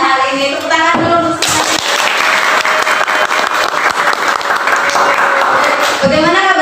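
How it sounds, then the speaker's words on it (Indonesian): A class of schoolchildren bursts into applause, many hands clapping loudly and continuously for about five seconds, with voices heard briefly before and after. "Tepuk tangan dulu."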